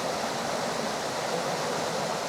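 Rushing stream water on a trail near Benamahoma, a steady close wash of flowing water with no voices.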